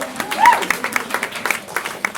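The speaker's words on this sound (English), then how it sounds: "let's give a round of applause for the ushers" An audience claps for the ushers at an anniversary celebration event, a short burst of scattered, uneven applause mixed with a brief voice.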